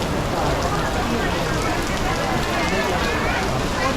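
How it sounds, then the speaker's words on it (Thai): Heavy rain pours steadily on surfaces at a riverside pier during a long-boat racing event, a dense, even roar that fills the whole stretch without letting up. "ฝนตกหนักเลยครับ"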